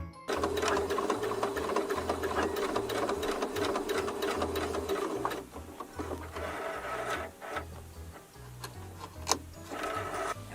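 A sewing machine runs almost continuously while stitching the side seam of a thrifted garment being upcycled, its steady motor hum and rapid needle ticking filling the foreground, with a brief slowdown midway before the stitching picks up again.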